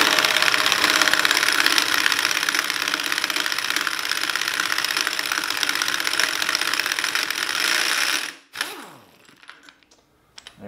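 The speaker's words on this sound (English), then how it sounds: "now we're just gonna hopefully be able to impact off the drive unit retaining nut" An impact wrench removes the drive unit retaining nut on a Comet 40 Series torque converter, rattling and hammering loudly and continuously for about eight seconds before cutting off abruptly, followed by a few faint clinks.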